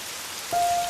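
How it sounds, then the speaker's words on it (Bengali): Constant rain hiss fills the clip, joined halfway by a sustained steady tone that rises in level and holds to the end. "বৃষ্টি শুরু হয়ে গেল যে"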